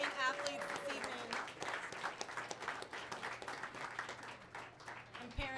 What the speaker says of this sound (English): let's give one more round of applause for our talented student musicians and athletes this evening